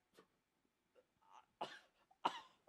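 A caller over a phone line gives a few separated coughs and throat clears, short sharp bursts of differing strength with quiet gaps, the last two louder.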